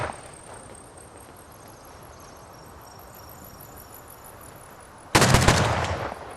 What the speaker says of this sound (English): Over here we have some more fire being exchanged.